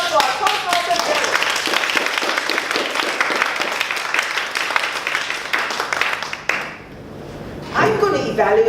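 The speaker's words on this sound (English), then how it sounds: "So another big round of applause for our Toastmaster Darren." An audience of a Toastmasters meeting gives a sustained round of applause for the Toastmaster, dense close clapping that fades out near the end before a voice starts speaking.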